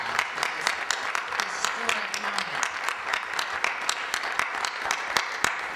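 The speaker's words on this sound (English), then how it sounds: "I think you need to give yourselves a huge round of applause." A large hall audience applauds steadily throughout, dense overlapping claps with no voices on top, fairly close and even in loudness.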